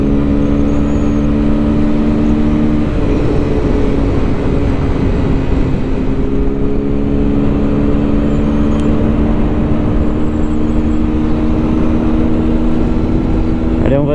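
A QJ Motor SRK 125R sport motorcycle cruises steadily on an open road, its engine holding a constant drone with a wide rumble and wind noise throughout, with no clear shifts.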